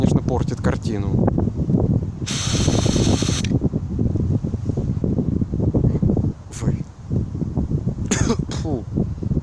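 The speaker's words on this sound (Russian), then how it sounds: "Ну, ветер налетел опять" Strong gusts of wind buffet the microphone outdoors during the spraying of an "Antizver" aerosol can, producing loud, continuous rumbling with a harsh broadband burst midway, while someone talks over it.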